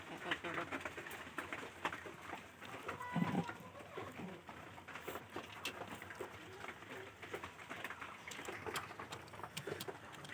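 Pigeons cooing in a pigeon house, soft repeated coos mixed with rustling and scattered clicks from the birds, steady throughout, with faint voices in the background.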